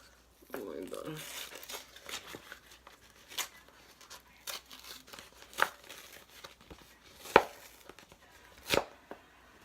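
A paper check torn by hand, with a few sharp ripping and crinkling bursts spread among quieter rustles, close and fairly soft, while a person talks.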